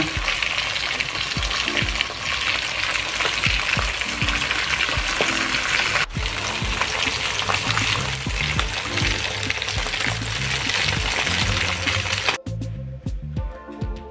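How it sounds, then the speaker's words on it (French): Fish fries in hot oil, a dense, loud, continuous sizzle with crackling pops and occasional stirring, ending in a quieter bubbling tail; no one talks. "vous faites chauffer et puis vous faites frire, que ce soit le poisson, le poulet, tout ce que vous voulez faire frire"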